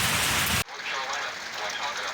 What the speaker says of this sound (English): Crazy winds, a lot of rain